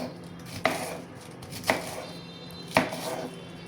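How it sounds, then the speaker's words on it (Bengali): A knife chops cabbage on a board in three well-spaced, crisp thuds over a quiet background. "আমি এখানে বাঁধাকপিটি কেটে নিচ্ছি"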